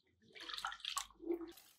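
Rice and moong dal being rinsed in water for temple-style sweet pongal, giving a short burst of splashing and sloshing at close range with no talk over it.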